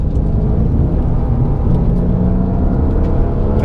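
A track-spec BMW E36 M3 drives along a mountain road, its engine a loud continuous low rumble and whir with steady road noise, heard from inside the car without talk.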